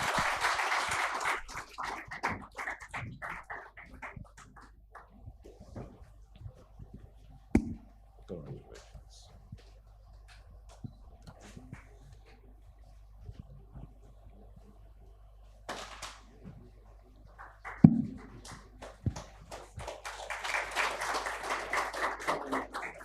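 Applause at an awards ceremony for construction winners, a burst of clapping from the audience at the start and end, with scattered claps, clicks and voices in between.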